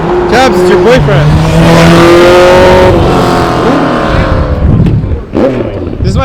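Cars accelerating away from a car show, engines climbing through gears and a sustained tire squeal, loud and near at first then fading, with voices chatting over the traffic.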